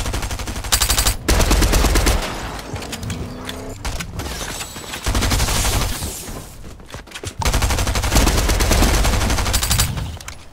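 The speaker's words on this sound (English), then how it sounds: "Shots." Heavy, close bursts of rapid automatic gunfire in Fortnite Chapter 3 Season 1, coming in several long volleys separated by brief gaps, loud and dense with mechanical clatter.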